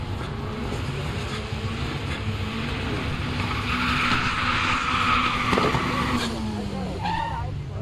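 At a quarter-mile drag race, a Hyundai i30N and an Opel Astra F Turbo launch with loud tire squeal and revving engines under a steady roar, while an announcer talks over the noise.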